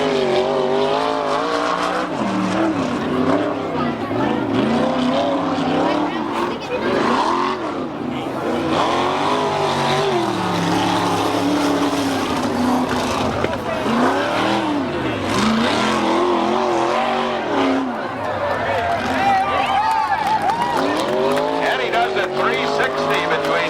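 IMCA 360 sprint cars and modifieds racing on a dirt oval, a loud, continuous engine roar that rises and falls as cars accelerate through the turns, with an announcer talking over it throughout.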